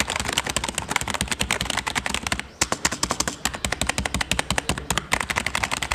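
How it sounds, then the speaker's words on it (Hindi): Fast typing on the keys of an Ant Esports KM540 membrane gaming keyboard with a metal plate produces a dense, rapid stream of sharp clicky taps, close and loud, with one brief pause. "the sound of keys of this keyboard makes us feel like a mechanical keyboard"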